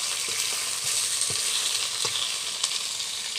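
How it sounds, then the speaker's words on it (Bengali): Fish fry in hot oil in a pan, giving a steady close sizzling hiss broken by scattered sharp pops of splattering oil, with no talking. "দেখো মাছগুলো ভাজা হয়ে তেল ছিটকাচ্ছে রে আমার"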